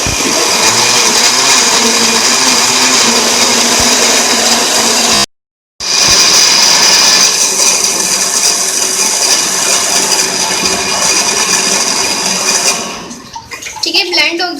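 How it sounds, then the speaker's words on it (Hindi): Kitchen blender whirring through a banana and mango milkshake, a loud continuous motor roar that cuts out briefly, restarts, then winds down to rattling at the end. "अब इसको हम कर लेंगे ब्लेंड।"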